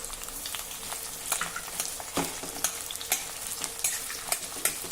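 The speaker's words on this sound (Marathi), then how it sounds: "आता हे कांदे जरा हलका तांबूस रंगावर होईपर्यंत आपल्याला परतायचे आहे" Sliced onions fry in hot oil in a kadhai, a dense continuous sizzle broken by repeated scraping stirs of a spatula close by.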